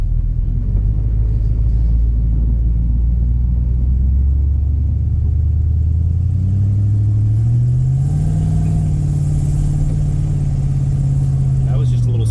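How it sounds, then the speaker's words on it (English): A steady, loud low engine rumble from an Avanti car being driven, with the drone rising in pitch about midway as it picks up speed and then holding a higher, even tone to the end. "Motor sounds good."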